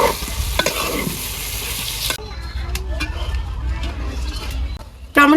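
Tomatoes and river prawns sautéing in a pan, a loud sizzle broken by scraping stirs, with a sharp burst of frying near the end.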